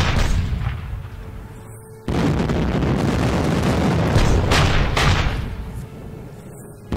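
Anti-tank guns firing in the Panzer Campaigns Scheldt '44 wargame, heard as a loud, dense burst of booming gunfire that sets in abruptly and rumbles on for several seconds with no talk.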